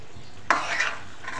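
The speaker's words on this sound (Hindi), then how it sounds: "अभी हमने टमाटरों को बहुत अच्छे से इसके अंदर मिक्स कर लेना है" Tomatoes being stirred into curry gravy for aloo soya chunks curry, a sudden close scrape of a spoon through the pan followed by a short wet sizzling swirl, with a faint stir again at the end.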